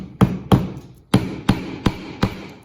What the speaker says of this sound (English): When you're hammering, make sure you hold the hammer at the bottom and you hold your head of the hammer always flat with the nail.